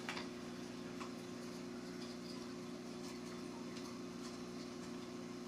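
A rubber band propeller on a toy paddle boat is wound by hand, giving a steady run of small, close ticking clicks over a constant low hum.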